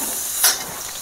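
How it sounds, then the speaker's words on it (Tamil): Garlic and onion sautéing in a pan, a steady soft hiss with a brief brighter sizzling flare midway, close and continuous, no voices. "வெங்காயம் நல்லா வதங்கிடுச்சு."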